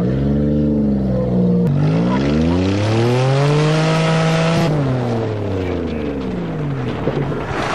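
A Toyota with a manual transmission accelerates hard on a farm, its engine note sweeping up and down through the gears, loud and close throughout.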